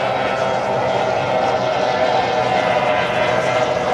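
A racing powerboat in an offshore race roars past in a loud, sustained engine drone with broad wash noise, holding steady across the whole pass.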